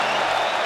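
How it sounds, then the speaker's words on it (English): Kickboxing fight crowd at a GLORY 89 event roaring and cheering, a dense, loud, continuous wall of noise from a large arena audience. "The crowd's going nuts"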